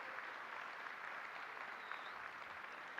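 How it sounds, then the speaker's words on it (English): Faint, steady applause from an audience honoring newly named Master Affiliates, a soft continuous wash of many hands clapping at a distance, with no talk over it. "And a round of applause for every single one of them."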